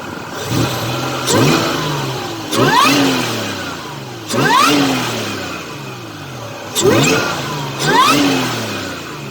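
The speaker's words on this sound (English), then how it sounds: "Okay, so the engine's at temp. We are good to go. I'm going to give it a couple little rips." A warmed-up supercharged Toyota Tacoma S-Runner 5VZ engine with an AFE open-element intake is given short throttle blips, about five loud, close revs rising and falling over a steady idle.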